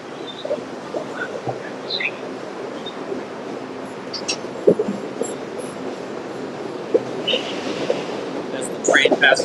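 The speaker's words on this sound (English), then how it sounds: "I've got a train going and a train coming." A train rumbles past at a moderate distance in Chicago's Medical District, with occasional metallic squeals and clanks over a steady rolling noise, and a voice talking over it.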